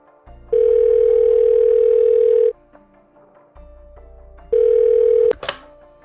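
A telephone line tone plays loud and close: a steady, even tone held about two seconds, a pause, then a shorter burst ending in a sharp click as the call connects.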